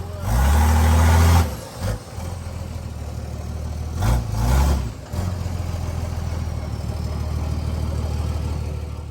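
A tow truck hauls a 1975 Chevrolet Caprice, its diesel-like engine droning loud and steady up close, with deep low rumble that dips briefly twice before settling into a continuous idle-like hum.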